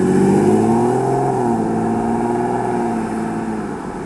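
A 2025 Chevrolet Blazer SS EV accelerates hard from a standstill, giving a loud, continuous electric motor whine with a rising pitch over road and wind noise before it eases slightly toward the end.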